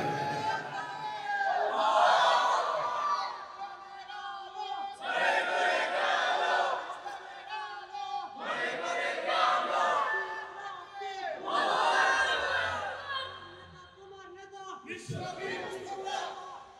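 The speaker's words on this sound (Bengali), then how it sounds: "জোরে সোরে নারায়ে তাকবীরের স্লোগান দিয়ে মাহফিলের থেকে নারায়ে তাকবীরের আওয়াজ আল্লাহর আরশ আজিমে পৌঁছাই দেন" Large crowd at a religious gathering in Chittagong shouting the Nara-e-Takbir slogan in loud, sustained call-and-response bursts, with a leader's voice prompting between roaring group responses.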